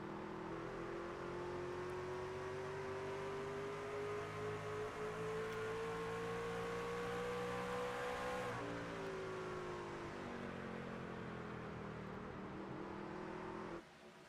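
Racing trucks in an oval sim racing series, engines droning steadily with rising pitch as a pack runs nose to tail, a continuous loud whine that dips briefly near the end.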